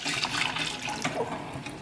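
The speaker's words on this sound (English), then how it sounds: "pour in your milk" A cup of milk poured into a whisked mixture makes a steady liquid splashing and gurgling, close and continuous for about two seconds with no talk.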